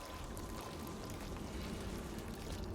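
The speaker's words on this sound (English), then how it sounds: "in the wibbly wobbly corridor with the water raining from the sky" Rain pouring steadily through a warped corridor in the horror game Layers of Fear 2, a dense, even hiss of falling water with no breaks, faint and constant throughout.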